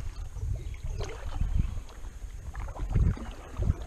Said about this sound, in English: One of the benefits of just paddling without the motor on it, I can get into places like that